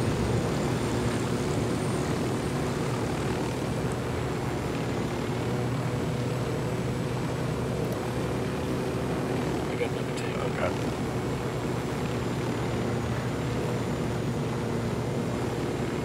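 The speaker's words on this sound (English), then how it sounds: "Did you ever figure out how to, you know, lower the helicopter?" Helicopter rotor and engine drone from Ghost Recon: Wildlands, a steady continuous hum filling the whole stretch, with players' voices talking over it.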